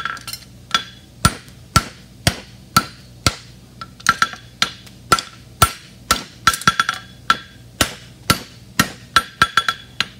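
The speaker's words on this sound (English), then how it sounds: "I'm dragging the hammer" A hammer working metal during metal forming, with a long run of sharp, ringing strikes at an irregular rhythm, loud and close, with no talk.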